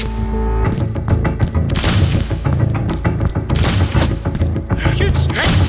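Loud, dense barrage of gunfire mixed with heavy booming explosions from high-grade ordnance, rapid overlapping shots and blasts filling the whole stretch, with shouting voices partly buried underneath.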